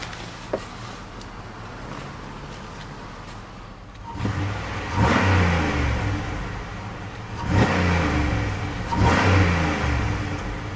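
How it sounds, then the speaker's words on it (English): A 2008 Buick LaCrosse Super 5.3L V8 idles low, then revs up sharply twice with deep, throaty bursts that fall back to idle, close and loud, no talking. "it does have a throaty, burly V8 exhaust note"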